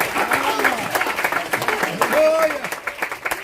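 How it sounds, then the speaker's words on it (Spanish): Applause from a church congregation during a Spanish-language service, a steady clapping wash under a preacher's loud voice and crowd noise throughout. "Fuerte ese aplauso."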